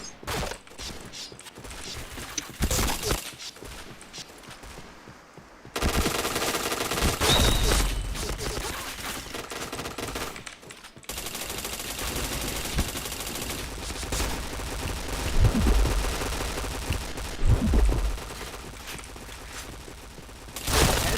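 Rapid automatic gunfire rattles in loud bursts from a shooting video game, with dense volleys separated by short lulls and heavier blasts later on.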